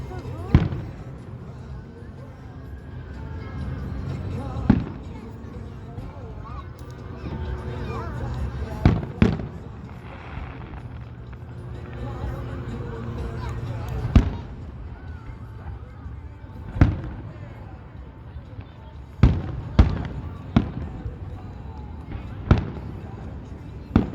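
Fireworks burst in a scattered series of sharp booms, about a dozen over the span, some near and loud, others more distant, with a low rumble between blasts and people talking throughout.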